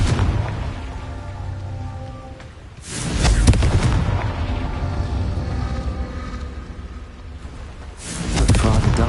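A Confringo blasting spell explodes in Hogwarts Legacy, a loud broadband boom hitting near the three-second mark and rumbling on, with a second blast rising at the end over a steady game ambience.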